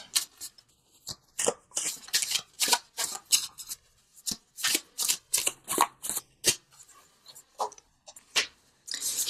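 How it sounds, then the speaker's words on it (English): Tarot cards shuffled by hand in a series of crisp riffling bursts with short pauses between them, close and clear with no talking. "let's pull a visionary card from Noah Nafu, just for some added guidance"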